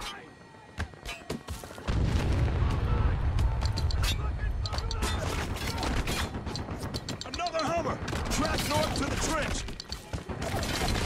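Mortar fire and heavy combat in the video game Spec Ops: The Line: loud, dense booming and crackling gunfire that erupts after a quieter start and stays intense throughout, with voices shouting under the din.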